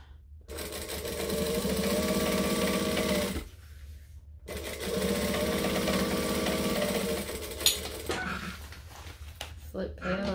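Sewing machine stitching a tote bag seam, two sustained bursts of steady motor whirr with a brief pause between them, followed by a short quieter stretch with small clicks and handling noises.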